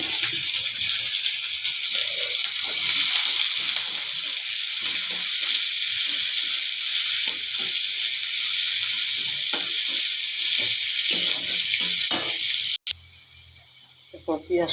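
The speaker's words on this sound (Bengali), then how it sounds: "পেঁয়াজটা ভাজা হয়ে গেছে।" Chopped onion and garlic fry in hot oil with dried red chillies and nigella seeds, giving a steady, loud, close sizzle that continues without a break until it cuts off abruptly near the end, with a voice speaking quietly underneath.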